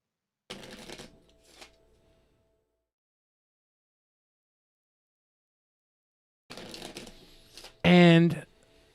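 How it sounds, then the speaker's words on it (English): Two short bursts of cards being fan shuffled, a quick riffling flutter, separated by silence, followed by a brief loud voice at the end. "Split the deck once. Three fan shuffles. A lot of fan shuffles."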